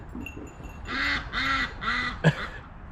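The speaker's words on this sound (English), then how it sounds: "Ah, there are the ducks." Three loud quacking calls in a row, close by, with a short sharp bird call right after; background chatter of other birds faint.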